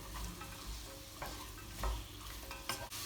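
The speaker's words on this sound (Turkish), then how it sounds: "havuçlarımı ekliyorum. Bunlar da biraz kavrulsun" Carrots sautéing with onions in a pan, a quiet steady sizzle with soft stirring scrapes and a few brief utensil clicks, no talking.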